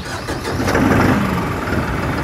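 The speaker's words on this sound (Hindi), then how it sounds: "एक बार स्टार्ट करके देख लेते हैं, ट्रैक्टर की आवाज़ सुनते हैं जी" A New Holland 5620 CRDI tractor's 65 hp common-rail diesel engine cranks and catches, settling straight into a loud, steady close-up rumble with no talking.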